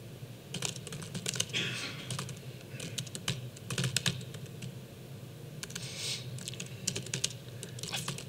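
Rapid clicking keystrokes on a computer keyboard while code is typed, with irregular bursts and short pauses, moderately close against a low room hum.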